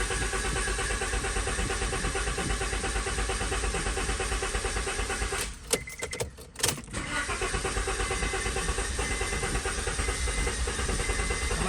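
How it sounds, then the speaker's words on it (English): A 2005 Honda Civic treated with Seafoam struggles to start, with a steady loud hissing engine roar broken briefly by a sputtering dip before it steadies again. "It's gonna struggle to start."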